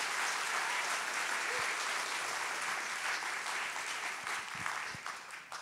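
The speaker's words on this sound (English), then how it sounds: "Everybody, give them a round of applause." An audience applauds warmly before a children's concert at an arts celebration, a full sustained wash of clapping that slowly tapers toward the end, with no voices over it.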